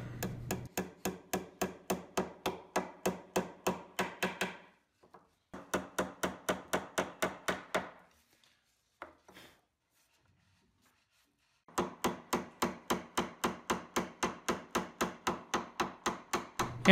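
A hammer drives brad nails into a pre-drilled hardwood shelf in three runs of fast, evenly spaced taps, each sharp and close, separated by quiet pauses.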